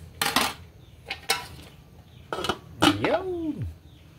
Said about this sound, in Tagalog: Ayan guys, takpan lang po natin.